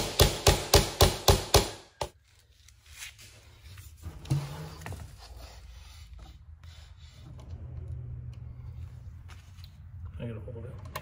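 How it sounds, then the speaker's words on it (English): A tack hammer strikes sharply in a quick run of about six evenly spaced taps at the start of a furniture restoration job, then a quieter stretch of rubbing and handling follows. "Use one of his tack hammers."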